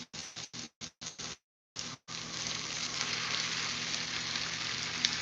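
Onions fry toward extra crispy on a hot cooktop for cheesesteaks, first in short choppy bursts, then as a steady, close, bright hiss that carries on alone.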